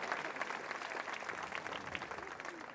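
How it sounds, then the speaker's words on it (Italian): An audience claps steadily and densely throughout at a restaurant's tenth-anniversary celebration evening, with a few faint crowd murmurs under the sustained applause. "facciamo un applauso al 10° anniversario del ristorante Il Patriarca con Emanuele"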